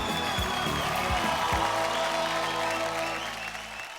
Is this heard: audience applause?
yes